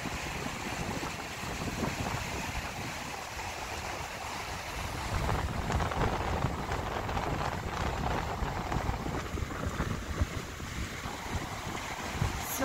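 Strong, rising wind on a wide sea beach, a loud continuous rush buffeting the microphone, with waves and surf blending into the steady roar.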